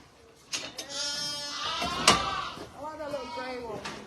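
Lambs bleat in a roundhouse where triplets have just been born, several wavering, nasal cries rising and falling close by, with a sharp knock partway through and people talking nearby.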